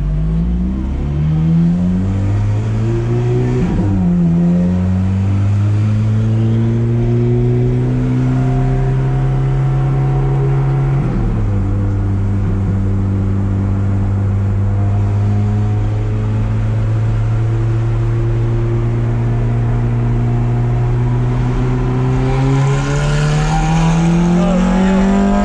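A Ferrari F430 F1 accelerates hard on the Circuit de Catalunya, its engine note climbing through the revs, dropping sharply at gear changes and rising again, loud and close from inside the car.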